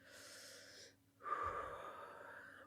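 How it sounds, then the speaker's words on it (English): A person draws a slow, deep breath in a calming exercise: a soft airy exhale, a short pause, then a fuller inhale, close and quiet with no talking. "allowing yourself to take deep breaths"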